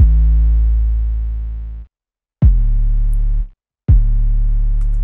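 An 808 bass in FL Studio, saturated with Fruity Fast Distort for crunchy top-end harmonics, plays three long sustained booming notes, each cutting off abruptly with short silent gaps between them, loud and alone.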